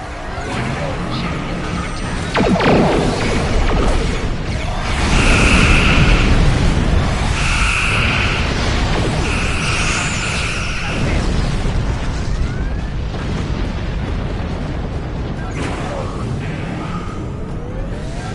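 A Star Trek Online space battle with Klingon vessels and the classic TOS Enterprise fills the scene with loud booming blasts and rumbling explosions, layered with repeated bright weapon-fire tones over a constant roar.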